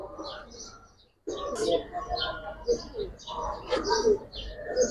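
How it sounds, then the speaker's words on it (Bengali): Young pigeons at a pigeon market with Giribaz and colored breeds, cooing and chirping in short bursts close by, broken by a brief silent gap early on, with voices mixed in. "বাচ্চা কবুতর।"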